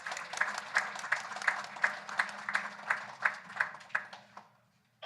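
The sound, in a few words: convention audience applauding the donors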